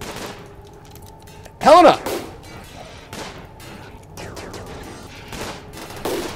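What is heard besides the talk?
gunfire in the video game Rimworld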